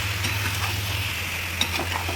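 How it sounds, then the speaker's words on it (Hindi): A piece of butter sizzling in a pan while butter chicken cooks, giving a steady, moderately loud hiss with light stirring scrapes and one sharp clink near the end, no speech. "यहीं पे हम लोग 1 पीस मक्खन का डाल दिए हैं यानी बटर।"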